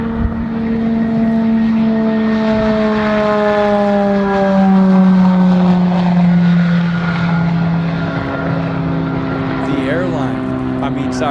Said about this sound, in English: a 9-passenger electric private plane that just completed its first successful test flight